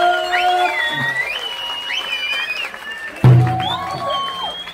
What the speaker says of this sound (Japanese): もう一度拍手をお願いします。